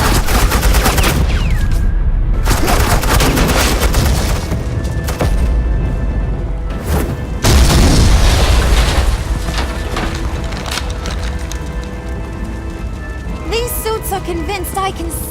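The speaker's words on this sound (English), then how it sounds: "suppressing fire." Rapid, sustained suppressing gunfire fills a Telltale Batman video game scene, with dense overlapping shots and booms that continue almost without pause, loud and close, then thin out near the end.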